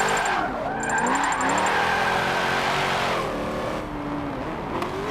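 A 1994 Nissan Silvia drifts in the racing game Forza Motorsport 7, its engine revving and swooping in pitch while tires squeal through the slide, a continuous close racing-car drone without talking.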